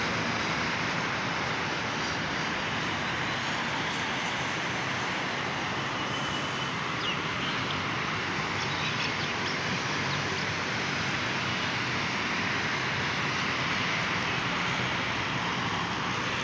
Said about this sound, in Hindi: ये हमारी मेट्रो बस जा रही है, आजकल हाईवे पे भी बसें चलना शुरू हो गई हैं।